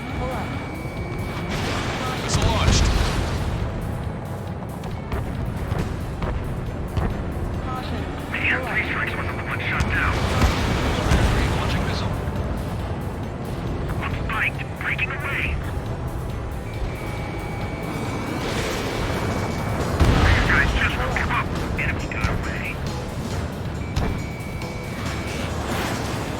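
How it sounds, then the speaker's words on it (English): Missile launch and explosions in the Ace Combat 7 combat flight game, with jet engine roar, rumbling blasts and sharp cracks, plus a radio voice talking over the steady, dense combat noise. "Enemy's got a lock. Missile launched."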